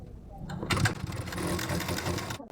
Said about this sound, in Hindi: तो इसी पे सिलाई लगाते हुए आएंगे